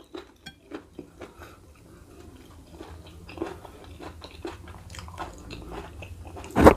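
Chewing on spicy beef tongue, close soft bites and chews repeating in a loose rhythm, with faint clinks of cutlery and a louder clatter at the end.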